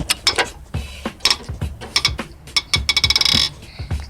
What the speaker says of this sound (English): let's use a breaker bar on 11/16, and then we'll use a ratchet to take it out the rest of the way